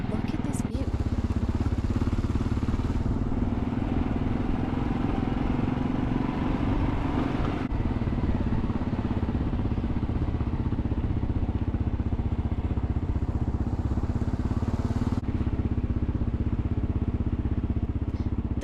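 A dual sport motorcycle ridden two-up along an off-road trail hums with a steady, loud mid-range engine drone and wind rush, with someone talking over it.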